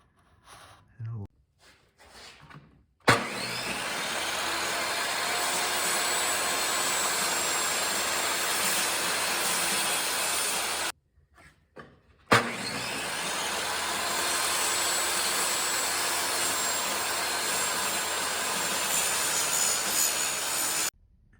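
Power saw cutting wood for a threshold: two long, loud, steady whining cuts of about eight seconds each, separated by a brief pause, with short bits of handling noise before the first.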